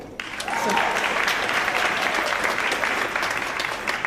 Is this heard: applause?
yes